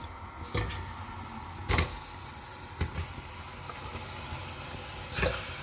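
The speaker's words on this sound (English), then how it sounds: "So I'll put the fish directly in the pot" Fish slides into a hot pot for fish pepper soup and sets off a steady, close sizzle, broken by a few sharper crackling bursts as the pieces land and shift.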